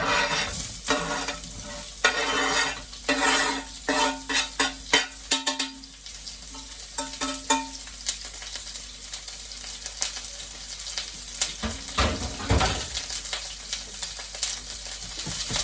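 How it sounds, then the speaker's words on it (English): Onion and garlic frying in olive oil in a pan during caravan cooking, a steady close sizzle with stirring scrapes and clatters early on, no talk. "straight away I'm going to pop in the onion and the garlic and get those fried up."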